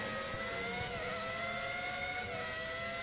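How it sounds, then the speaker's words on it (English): Formula 1 car engine from the game F1 2013 at Brands Hatch, a steady high-pitched whining drone with slowly shifting harmonics, loud and continuous with no talk. "Different engine note as well in this car, so you'll notice the different sort of changes in feel"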